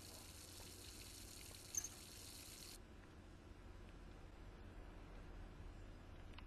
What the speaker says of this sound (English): Just sink running.